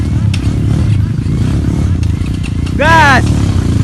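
Kawasaki KLX and Honda CRF dirt bikes rev on a challenging adventure trail, engine noise loud and steady throughout with a sharp rising rev near the end, amid shouting voices.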